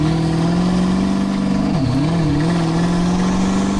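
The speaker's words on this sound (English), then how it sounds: "Sounds like a diesel 18-wheeler with the whine of that" Loud, steady engine note from a diesel truck that sounds like an 18-wheeler, with a strong whine that dips and wavers briefly midway before settling back to a constant drone.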